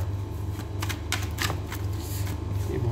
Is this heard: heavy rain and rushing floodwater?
no